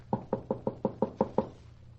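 Eight sharp knocks rap on a door in a steady, even rhythm, close and clear, followed by a brief quiet room tone.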